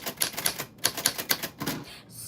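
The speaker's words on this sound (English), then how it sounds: "your name fell on the typewriter bell" A typewriter clacks through a quick, uneven run of close, sharp keystrokes, followed by a brief ringing tail at the end.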